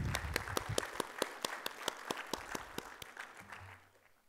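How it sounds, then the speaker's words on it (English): Applause welcoming a speaker at a tax law seminar: a handful of people clap in sparse, distinct, fairly close claps that slow and fade out after about three seconds, leaving a faint hum. "with big round of applause, please join me"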